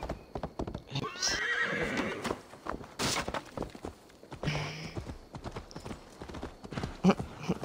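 Horse hooves clip-clop at a fast gallop in Assassin's Creed Valhalla, with a loud whinny cutting through partway, while a player talks intermittently over the game sounds.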